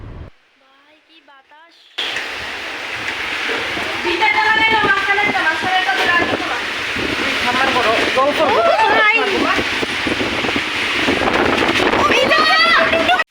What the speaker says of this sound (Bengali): তো এই তুফানের এই অবস্থা।